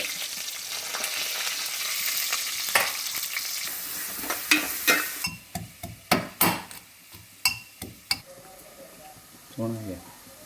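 Onions frying in coconut oil in a pan: a steady hiss of sizzling that grows busier, then a run of sharp metal clanks and scrapes as a spoon stirs them, loud and close, with no talk.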